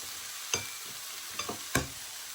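Spice powder and grated coconut being stirred into beans frying in a pan, a quiet background sizzle broken by a few sharp spoon scrapes and knocks against the pan.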